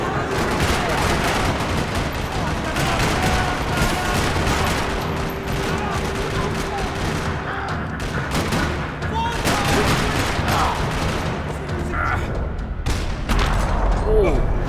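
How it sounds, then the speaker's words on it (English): Sustained bursts of automatic gunfire and single shots in a parking lot shootout in the PC video game Max Payne 3, loud and dense throughout, with occasional booms and voices mixed in. "Another parking lot rattling with gunfire."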